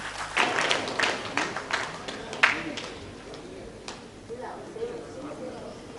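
Applause from an audience at a national seminar, a patter of scattered clapping that rises and fades unevenly, moderately loud and fairly close, with no clear talk over it.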